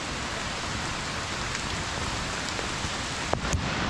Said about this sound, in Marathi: पाऊस जोरदार सुरू.